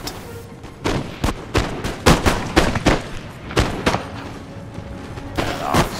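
Rifle fire in the Empire: Total War strategy game, with line infantry letting off an irregular volley of sharp cracks and booming shots, several overlapping in quick bursts at close range.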